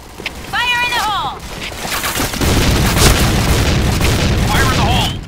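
Grenade blasts in a shooter video game: loud, close booming bursts that merge into a sustained rumbling roar, with brief chirping electronic tones at the start and end.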